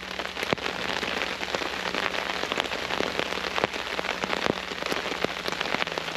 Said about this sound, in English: Still raining like crazy.